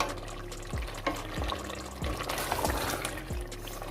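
Water goes into mutton sizzling with yogurt in a pan, a steady hissing fry with soft liquid splashes and a few low knocks of stirring, no talking.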